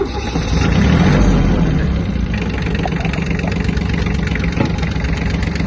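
A Kubota B1-17 Japanese mini tractor's diesel engine idles while warming up, a loud, steady, close chugging drone with a slight swell early on and no talk over it.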